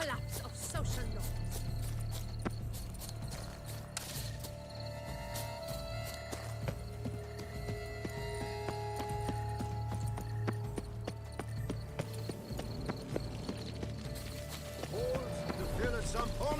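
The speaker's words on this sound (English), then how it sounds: "Be better off on horseback." Horse galloping in The Witcher 3, a steady close clip-clop of hooves running under game music, with a person talking over parts of it.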